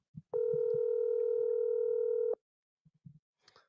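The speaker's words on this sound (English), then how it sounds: "The secretary of the board phone ringing right now." An outgoing WhatsApp call gives one long steady electronic ringback tone lasting about two seconds, close and clear, with faint voices murmuring briefly before and after.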